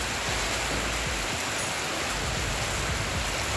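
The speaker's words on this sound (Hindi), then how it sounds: "लाहौर समेत पंजाब के मुख्तलिफ शहरों में बादल जमकर बरसे।" Heavy thunderstorm rain pouring over Lahore in Punjab, a loud, dense and steady wash of falling water with no break across the whole stretch and no voices.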